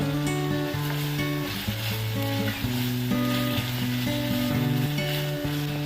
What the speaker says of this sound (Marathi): मध्यम आचेवर आपण कांदा असा परतून घ्यायचा इथे एक मिरची बारीक कापून घेतली आहे ती घालून घेते